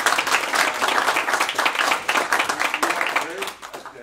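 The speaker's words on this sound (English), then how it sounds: "let's just give a big round of applause for this." Steady, dense applause from a large conference audience, with clapping continuing throughout before tapering slightly at the end.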